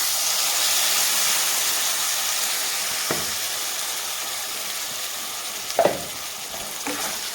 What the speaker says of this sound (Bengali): তো টমেটোর সাথে আমি ভালোভাবে একটু কষিয়ে নেব